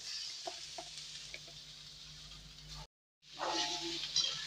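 Maize-flour fara pieces frying in a pan make a steady soft sizzle with faint stirring scrapes, broken by a brief silent gap before the hiss returns louder.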